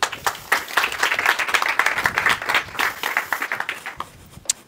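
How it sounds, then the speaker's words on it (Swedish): A seminar audience in Sweden gives warm applause as a speaker comes up on a patient-participation talk, a lively burst of many hands clapping that swells, holds, then thins out with a few last claps. "Jag tycker vi välkomnar Kajsa upp med en varm applåd"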